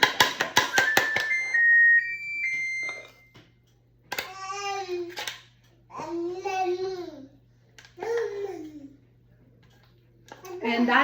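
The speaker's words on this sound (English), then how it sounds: "that sound was the sound of our oven being fully preheated and ready" A kitchen oven beeps a few short electronic tones after preheating for muffins, followed by a child babbling and people talking nearby.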